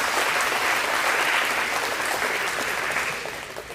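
A banquet audience at a school athletic event applauds a senior, dense continuous clapping close and loud, tapering off in the last second.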